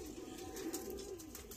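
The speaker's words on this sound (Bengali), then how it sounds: "কবুতর ডামালে ধরতে পারলো না রিয়াদে" A pigeon coos softly nearby in one low, rolling phrase, alone with no talking.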